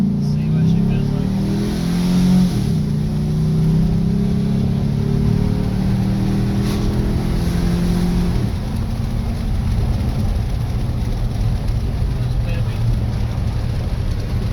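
Chevrolet Silverado pickup engine fitted with a bigger cam, idling steadily with a loud, lumpy rumble that holds throughout, slightly rising early then settling, under a constant background roar.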